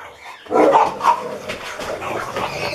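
A dog barks in a short burst of loud, close yaps, followed by smaller yips and whimpering noises, with no one speaking.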